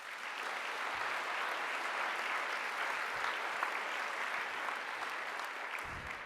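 Sustained applause from an audience at a speech event, a dense steady wash of clapping lasting throughout with no voices over it.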